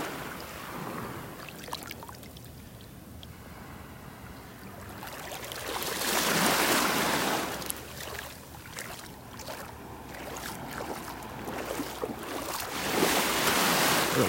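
Gulf waves washing in and sliding back out on a North Naples, Florida beach, a steady rushing surf that swells loudly in the middle and again near the end, heard alone with no talk.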